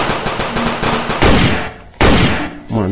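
A toy AKM-47 rifle plays a loud electronic gunfire effect: a rapid burst of rattling shots, then two heavier blasts with fading tails.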